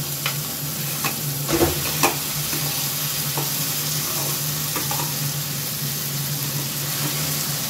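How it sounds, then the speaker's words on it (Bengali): Mashed boiled potato being stirred into softened tomato in a hot pan, with a steady sizzle throughout and occasional scraping strokes of the spoon, close and moderately loud, no talking. "খুব ভালো করে এটা আমি মিশিয়ে নেব।"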